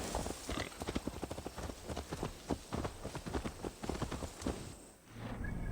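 Horse hooves clop in a quick, uneven rhythm across ground in Assassin's Creed Valhalla gameplay, close and moderately loud, slowing and fading briefly near the end.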